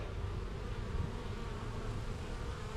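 A swarm of honey bees drones in a steady, dense buzz from many insects at close range, continuous and unbroken for the whole stretch, during an August swarm collection into a nuc box.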